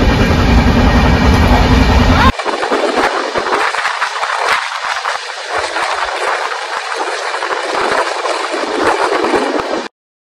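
Long-distance passenger train running from Vizag to Mumbai: a loud, constant rumble and rattle of the carriages with faint clickety-clack, the tone shifting after the first couple of seconds, then cut off abruptly.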